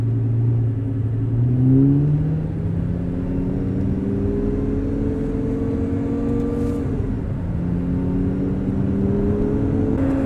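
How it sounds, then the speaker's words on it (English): Lamborghini Gallardo with E-Gear transmission accelerating hard from inside the cabin, engine note rising repeatedly then dropping at each quick gearshift, a loud continuous drone with no talking. "you can actually keep your foot down and just smash through the gears"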